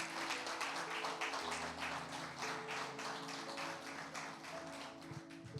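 A church congregation claps for the Lord in a Spanish-language service, a sustained spread of applause with soft rhythmic pulses over a low held musical tone.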